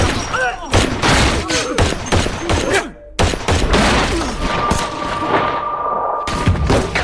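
Gunfire in a film scene, with repeated loud sharp shots in bursts mixed with shouting voices and dramatic sound, a short pause, then more firing.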